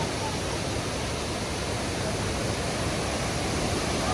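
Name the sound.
waterfall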